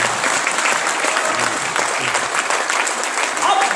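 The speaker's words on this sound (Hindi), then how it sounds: "अब मृगांक जी कह रहे थे ताली मार ली तो तरीके से बजा ली" Loud, dense audience clapping at a business seminar, a steady roar of many hands that holds without a break and sounds close and full.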